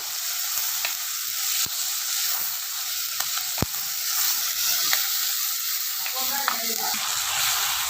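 Chopped tomatoes frying in a pan for a village-style sundakkai kuzhambu, a continuous close sizzle with sharp spoon taps and stirring scrapes scattered across it.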